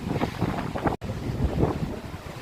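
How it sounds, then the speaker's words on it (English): Wind gusting against the microphone on a rocky mountain hike, a rough steady rumble with rushing water faintly underneath and a brief dropout midway. "Between the water down there and the wind blowing, might be kind of hard to hear me"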